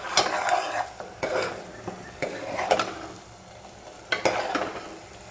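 Ginger garlic paste sizzles in oil and butter in a pan while a spoon stirs it, with repeated close scraping and clinking strokes over a soft, steady frying hiss.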